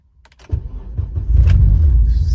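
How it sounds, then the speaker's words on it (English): A 7th-generation Honda Accord with a newly installed fuel return line cranks briefly and fires up, its engine catching after about half a second and settling into a loud, steady, close idle rumble. "Alright, so let's start the car."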